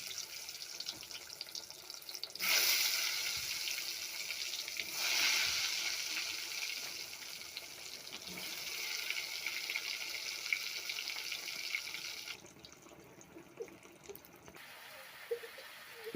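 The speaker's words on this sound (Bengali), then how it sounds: "বেগুন লবণ আর হলুদ দিয়ে মাখিয়ে রেখেছিলাম, বেগুনটা ভেজে নিচ্ছি।" Brinjal slices coated with salt and turmeric frying in hot oil at home for a lunch meal, a steady close hiss of sizzling that swells briefly around the middle and eases toward the end, with no talk.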